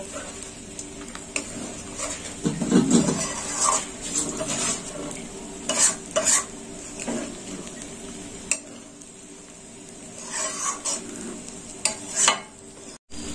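Boiled rice with spices being stirred and fried in a pan for mixed vegetable rice, with scraping and clattering of a utensil against the pan in irregular bursts over a soft background sizzle, close by.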